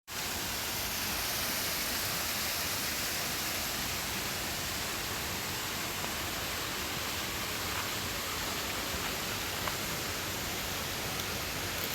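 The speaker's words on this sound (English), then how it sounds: "Someone wants to watch the waterfall." Waterfall in Karura Forest, heard as a constant, even roar of falling water, broad and unbroken from start to finish.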